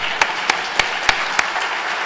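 Applause from a conference audience at a Spanish communication and advertising event, heard as a continuous wash of clapping with a few sharper individual claps standing out at a steady pace.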